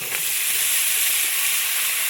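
Pieces of taro (mankochu) dropped into a hot pan for a spicy curry, giving a steady, bright sizzle and hiss that stays even and close throughout with no talk.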